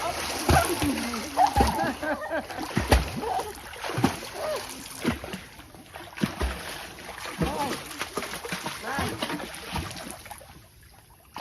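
People splash and play in water at a Thai countryside garden farm pond, with irregular sloshing and splattering bursts close by as voices chatter and call out over the water.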